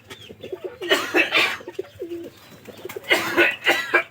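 Pigeons coo inside a cage in winter, several soft throaty calls overlapping in bursts, fairly close, with a quieter stretch in the middle.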